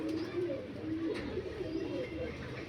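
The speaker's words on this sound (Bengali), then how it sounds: "পিওর অরিজিনাল আন্দারা পায়রা আছে" A pair of Andhra Mangalgiri pigeons coos softly and continuously, with low, wavering burbling phrases at close range in a quiet space.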